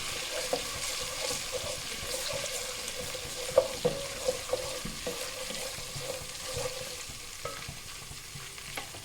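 Ginger garlic paste fries in a pan for a Hyderabadi green chilli salan, giving a continuous hiss and crackle up close with occasional light utensil taps, and no one talking.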